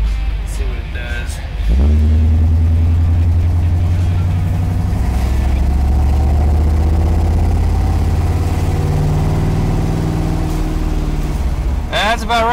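A 1979 Chevrolet Camaro engine starts and rumbles loudly close by as the car drives down a side road, holding a steady low drone with slight revving before a clatter at the end.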